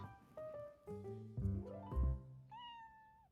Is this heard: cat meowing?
yes